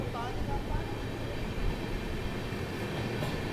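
An Amrit Bharat Express pulls out of Tiruttani railway station after a two-minute halt, giving a steady rumbling roar of rolling wheels and carriages heard from on board. Someone talks over the noise.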